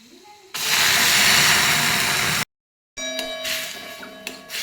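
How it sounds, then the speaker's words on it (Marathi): Spinach puree poured into a pan of lightly browned garlic, hitting the hot pan with a loud, steady sizzling hiss that cuts off abruptly, then resumes as a softer crackling simmer with faint clinks. "लसूण हलकासा ब्राऊन झाल्यावरती त्यामध्ये आपण पालकाची प्युरी घालूया."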